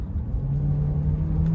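A Citroën C4 Cactus THP accelerates after a downshift, its engine droning loudly with a steadily rising low whine heard close from inside the cabin, no talk over it.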